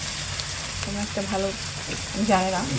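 Meat curry sizzles and fries in a pan while being stirred, a steady hiss heard up close with a person speaking over it.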